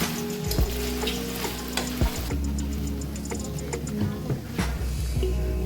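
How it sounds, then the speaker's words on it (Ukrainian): Meat sizzling and crackling as it browns in a hot frying pan, steady frying hiss with occasional clicks and stirring knocks. "Виложили ми м'ясо в сковорідку і обжаруємо до золотистої корочки."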